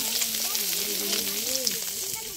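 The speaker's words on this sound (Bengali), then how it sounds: "এখন এই মাছটা এখন এই যে ভেজে নিচ্ছে মা" Rohu fish pieces frying in hot oil give a steady, dense sizzle, with a faint voice or hum running underneath throughout.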